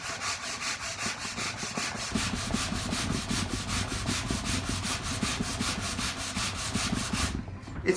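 A wooden chair leg is hand-sanded with 120-grit sandpaper in steady, rhythmic back-and-forth rasping strokes, close and continuous, with no voices.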